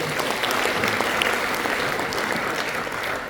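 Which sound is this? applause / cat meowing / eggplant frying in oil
applause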